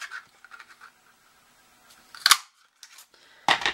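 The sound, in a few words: craft punch punching paper butterflies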